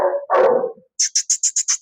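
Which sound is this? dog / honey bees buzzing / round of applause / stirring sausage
dog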